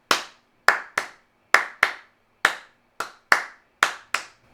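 Ten sharp hand claps open a rock song, spaced unevenly and ringing with short reverb tails, crisp and close with nothing else underneath.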